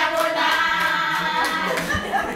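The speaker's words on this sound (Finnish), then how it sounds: "Kun oppilas onnistuu, sitä juhlitaan taputuksilla" Applause for a pupil's success in a literacy class, a group clapping steadily and fairly close, a dense patter of hand claps that lasts the whole moment.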